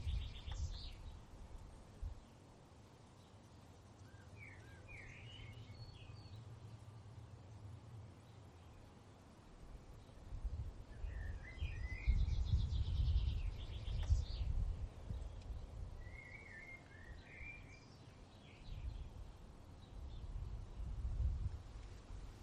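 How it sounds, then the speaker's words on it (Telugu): Birds sing in a natural outdoor setting, with several short chirping phrases scattered across a steady bed of low rumbling background noise; the song is faint and fairly distant. "ఇలా నేచర్కి దగ్గరగా బర్డ్ సౌండ్స్ వింటూ"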